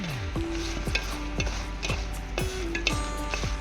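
Dried red chilies fry in a pan for an old-style chutney, a steady sizzle broken by regular scraping stirs of a spatula, about one stroke every half second, with no voices.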